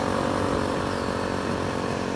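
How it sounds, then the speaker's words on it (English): A Kawasaki KLX300 dirt bike with a new aftermarket exhaust runs as a dense, steady engine drone, loud and continuous throughout the short stretch. "we got a new exhaust"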